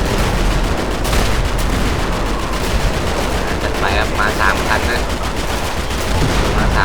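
Rapid, sustained gunfire aimed at a mini tank in a modded GTA V match, dense and loud bursts running almost continuously throughout.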